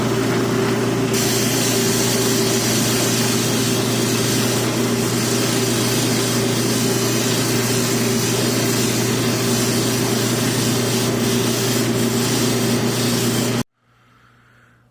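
A lapidary polishing wheel with an off-center belt and a badly wobbling wheel runs with a loud, steady whirring drone and strong low hum, then cuts off abruptly near the end, leaving a faint fading rumble.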